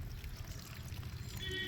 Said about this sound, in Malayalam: നന്നായി കഴുകു, വൃത്തിക്ക് കഴുകു.